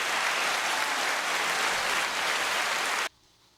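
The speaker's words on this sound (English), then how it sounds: "That was the clapping" Dense audience applause, a steady wash of many hands clapping at moderate level that stops abruptly, leaving near silence.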